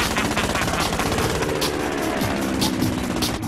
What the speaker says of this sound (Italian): non riuscirai a sfuggire a questa magnifica mitragliatrice